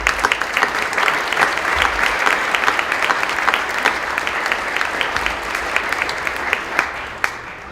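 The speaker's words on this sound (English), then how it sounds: "Please give them a round of applause." A large audience applauds steadily, a dense wash of many hands clapping at even loudness throughout, with no voices standing out.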